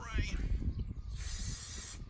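Aerosol spray can hissing onto a black custom motorcycle engine around the spark plug and cooling fins, a steady close hiss lasting about a second after a man's brief speech.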